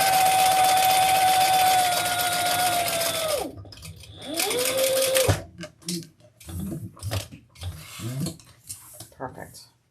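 Sewing machine stitching a crossbody bag, a loud steady motor whine that drops off, then a short reverse run for backstitching, followed by scattered handling clatter with some talking.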